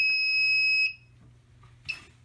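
A Fireman 24 smoke detector sounding during a fire alarm system test, a loud piercing steady beep held for about a second, then a short quieter chirp after a pause.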